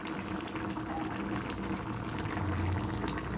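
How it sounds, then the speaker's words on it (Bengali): Vegetable and shrimp curry with stalks, pumpkin and potato bubbling steadily in a pot, a dense continuous rolling boil heard up close with no talking. "দেখুন ফুটছে"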